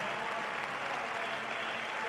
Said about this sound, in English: Crowd enjoying this, the three of them well clear now of Tsegay